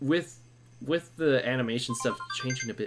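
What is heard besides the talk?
phone ringing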